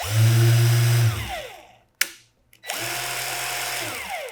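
A Ryobi ONE+ cordless polisher/sander motor whines steadily, cuts off with a sharp click and brief quiet, then spins back up to a steady high-speed drone.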